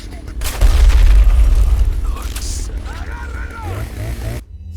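A shotgun blast in a Resident Evil-style shooter played as Ada, a heavy low boom that swells and rumbles for about a second before fading under game ambience, with a player talking over it.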